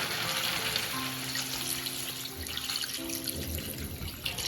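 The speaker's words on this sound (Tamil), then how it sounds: "இன்னும் வந்து தண்ணி ஊற்றணும்." Water poured from a vessel into a pan of Pallipalayam-style country chicken curry, a steady splashing pour running the whole time, close and moderately loud with no talk.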